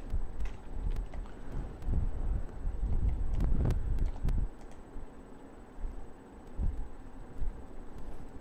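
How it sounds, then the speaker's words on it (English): Strong wind blowing outdoors across open snowy ground, buffeting the microphone in rough, rumbling gusts that rise and fall without talk. "Lots of wind."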